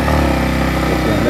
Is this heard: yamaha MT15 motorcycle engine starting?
yes